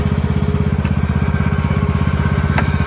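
A John Deere S110 lawn tractor runs steadily close by with a rapid, even engine throb as its mower blade is engaged, while faint clicks and clatter sound over the motor.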